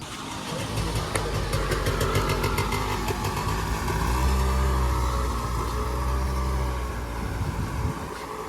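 A vehicle engine rumbles steadily, rising and falling as it drives through village floodwater, with a constant wash of rushing water noise behind it.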